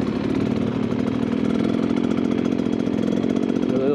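A 2023 Beta XTrainer 300 two-stroke motorcycle engine, detuned, runs steadily at a low, even putter with rapid pulsing firing, close and loud throughout with no voices.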